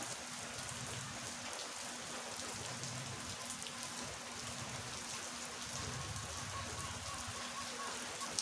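Steady rain falling on a wet morning, a continuous dense patter of drops on surfaces with a constant hiss, close and even throughout, with no talking.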